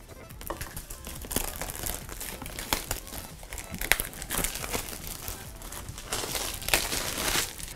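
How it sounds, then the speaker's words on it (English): Plastic wrap crinkles and tears as it is peeled off the boxed Replicade 1943 miniature arcade cabinet, a busy, continuous close-up rustle with sharper crackles scattered throughout. "let's take this plastic off first though."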